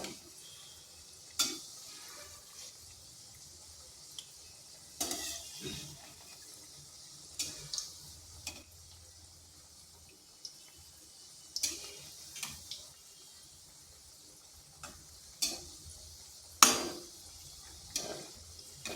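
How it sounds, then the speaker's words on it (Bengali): A spoon scrapes and clicks now and then against a pan as a sweet of ripe banana and milk fries over slow to medium heat, with a faint, soft sizzle between the sharp, irregular strokes and no talking. "এক মিনিট হয়ে যাওয়ার পর এভাবে নেড়ে দিতে হবে"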